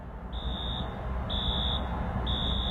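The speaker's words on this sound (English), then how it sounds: "That's the alarm that has been going off since around 1 o'clock in the morning when" Fire alarm sounding at a movie theater after an evacuation, three long steady high-pitched beeps repeating at even intervals over a constant low background rumble, no talking.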